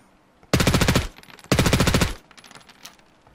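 Two loud bursts of rapid 9mm automatic gunfire in the video game Ring of Elysium, each about half a second of quick, evenly spaced shots, followed by fainter distant shots.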